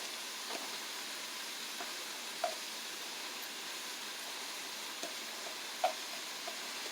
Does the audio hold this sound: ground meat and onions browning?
yes